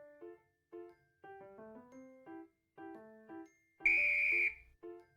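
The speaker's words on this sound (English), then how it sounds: "The referee blows the whistle" A referee's whistle blasts once in a visual novel game, a short shrill shriek following a string of soft chiming melodic tones.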